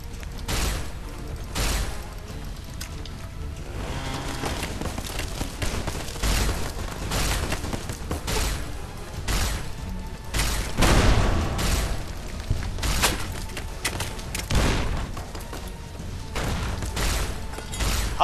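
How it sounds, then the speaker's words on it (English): A steady barrage of explosions and booming bursts in the video game Fallout: New Vegas, repeated throughout at close range, dense and loud with little pause. "Gonna be explosions now."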